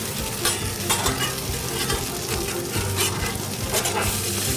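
Steady sizzling of pancakes frying on a hot griddle, a constant crackling hiss with occasional scraping or stirring sounds, close and fairly loud.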